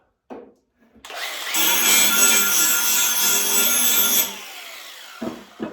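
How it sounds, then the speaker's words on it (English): An angle grinder scours a bare spot on metal for a welding ground clamp on a personal submarine build, a loud, sustained harsh grinding that runs for about three seconds after a brief start, then winds down. "I'm just going to grind a bare spot for the ground clamp"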